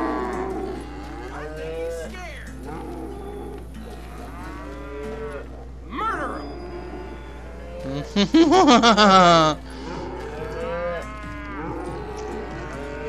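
Cattle in the Western shooter Call of Juarez: Gunslinger give several drawn-out moos, one loud and close in the middle, over game ambience while someone talks throughout.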